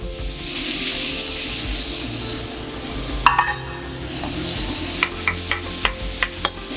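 Onions frying in butter in a pan beside seared meat for a Turkish sauté hiss with a steady loud sizzle, later joined by a series of clinking utensil taps against the pan.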